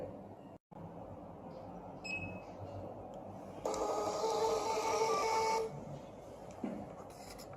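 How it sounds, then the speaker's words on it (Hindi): A BALAJI BBC 3 inch bill machine prints a bill with a steady mechanical whir lasting about two seconds, set against a quiet room hum with a few faint clicks. "अब बिल निकालने के लिए मशीन पर दी गई इस प्रिंट बटन को दबाएं"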